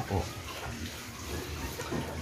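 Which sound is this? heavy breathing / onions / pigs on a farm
pigs on a farm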